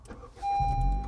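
A 2015 Honda Civic Si turning over at the press of a push-button start, with a short starter whine giving way to a steady, loud engine idle that lasts to the end.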